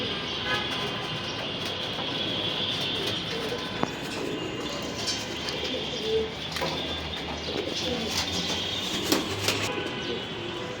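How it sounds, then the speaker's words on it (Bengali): Racing pigeons perched on a tin roof coo in low, rolling calls over a constant hum of outdoor noise, with occasional sharp clicks and faint voices. "দেখেন সব কবুতর এখানে টিনের উপরে"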